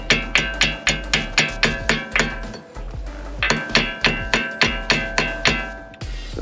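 Metal hammer tapping a front brake part back into place on a Cadillac, roughly a dozen sharp, evenly spaced close strikes in two bursts with a short pause between, no talking.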